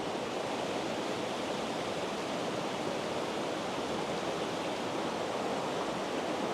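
A small mountain waterfall in the Pamir of Tajikistan roars in a steady, dense rush of falling water, close and unbroken, with no voices.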